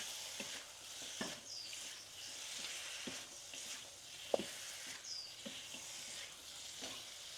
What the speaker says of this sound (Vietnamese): Mình sẽ xào cho cái phần gia vị nó trộn đều với sườn.